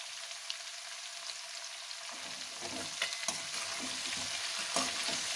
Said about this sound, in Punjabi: ਮਿਕਸ ਕਰ ਲਾਂਗੇ ਸਾਰੇ ਮਸਾਲਿਆਂ ਨੂੰ